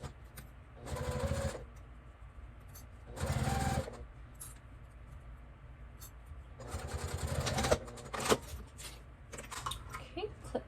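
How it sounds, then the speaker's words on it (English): A sewing machine stitching a dog treat pouch closed, heard in three bursts of rapid mechanical whirring, the last one longest, separated by quieter handling noises and a speaking voice. "stitch that closed as close to the edge as you can get here"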